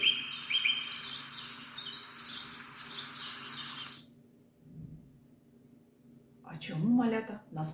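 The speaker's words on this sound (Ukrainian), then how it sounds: "Так, це співають пташки." Birds chirp and tweet in bright repeated bursts for a few seconds, then it falls quiet before a voice briefly speaks near the end.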